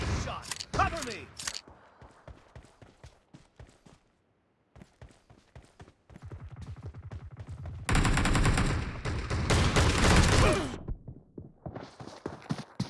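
Shotgun blasts and other gunfire ring out in BGMI, the mobile battle royale game, as sharp isolated shots with gaps between them, followed by a dense, loud stretch of continuous firing and noise midway through.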